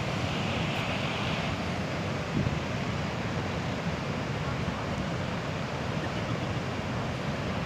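A volcanic lahar flood from Semeru surges down the Geladak Perak river channel at dusk, a loud, continuous roaring rush of churning water and debris with wind buffeting the microphone.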